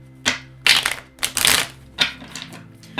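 Close, crisp riffling and slapping of tarot cards being shuffled in several quick bursts, irregularly spaced, with no talking.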